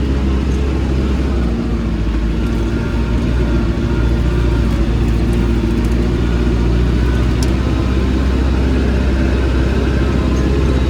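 A tractor rumbles steadily along a rough forest road, its engine loud, close and continuous throughout, with low mechanical drone and faint rattling over the top.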